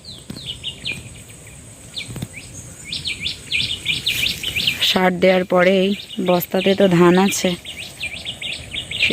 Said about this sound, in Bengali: কি সুন্দর পাখির ডাক শোনা যাচ্ছে